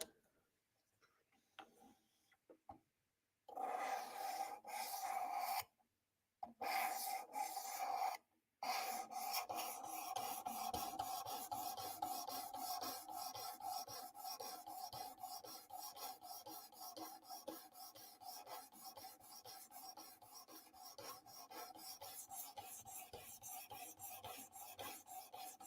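A knife blade being worked on a 600 grit sharpening stone makes a continuous rhythmic rasping scrape, with a few brief pauses early on before steady strokes run through the rest.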